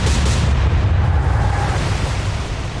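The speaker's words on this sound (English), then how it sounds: "5-inch high explosive cannons," Five-inch high-explosive naval cannons fire in a warship video game, a loud, dense, sustained boom and rumble filling the whole moment before slowly easing off.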